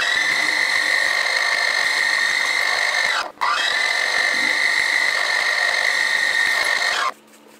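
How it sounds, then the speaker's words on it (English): A drill bores holes through a steel fixture plate as a loud, steady high whine that cuts out briefly in the middle, restarts, then stops near the end. "that's all the holes drilled"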